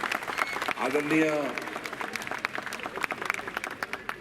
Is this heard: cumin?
no